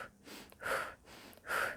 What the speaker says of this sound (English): breathe in through your nose and then either breathe out through your nose or out through your mouth